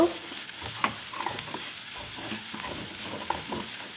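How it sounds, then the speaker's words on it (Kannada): Chopped ginger and garlic fry in a pan for pepper chicken, giving a steady, moderately loud sizzle with a few light stirring scrapes and clicks, and no voices. "ಶುಂಠಿ ಬೆಳ್ಳುಳ್ಳಿ ಚಿಕ್ಕದಾಗಿ ಕಟ್ ಮಾಡಿಕೊಂಡು ಹಾಕ್ಕೊಳ್ತಾ ಇದ್ದೀನಿ ಸ್ವಲ್ಪ ಫ್ರೈ ಮಾಡ್ಕೋಬೇಕು"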